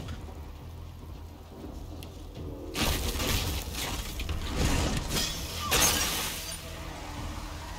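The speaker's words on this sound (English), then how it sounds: "Put some rain down. It's gonna be electricity rain by the look of things." Electric rain spell cast in the video game Divinity Original Sin 2: a sudden loud burst of crackling, hissing downpour with sharp electric shatters, swelling in waves over a quiet ambient start, with no talking.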